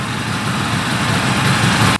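A small two-stroke triple motorcycle engine idles loudly and steadily up close, a rough continuous rumble that cuts off abruptly at the end.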